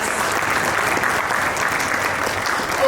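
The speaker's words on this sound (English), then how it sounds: "On awards, everybody claps." An audience at a business awards ceremony claps in sustained, dense applause from many hands, fairly loud and even throughout, with a faint voice underneath.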